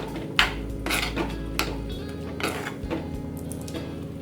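Bitter gourd curry with tomato and onion being stirred in a pan, a spoon scraping and clinking against the metal in quick uneven strokes, close and fairly loud, with no talking.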